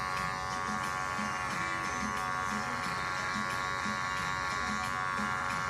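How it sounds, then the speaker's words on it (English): Electric shaver buzzing steadily and close while trimming the bottom of a client's hair during a mid skin fade with beard, a continuous dense whine with no talk. "So now I will use my shaver to shave the bottom of his hair"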